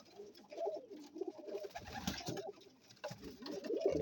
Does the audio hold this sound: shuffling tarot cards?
no